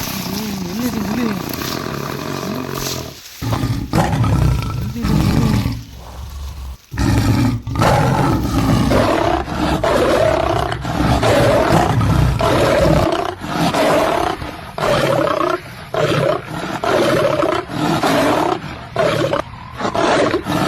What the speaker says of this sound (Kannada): ಎಲ್ಲೋ ಹುಲಿ ಕೂಗಿದ್ದು ಕೇಳಿಸ್ತಾ ಇದೆಯಾ?